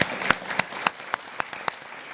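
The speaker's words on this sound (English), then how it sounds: "Could we just give a round of applause to the panelists" Scattered, sparse clapping from a panel audience, about eight distinct claps ringing out one after another over a quiet room.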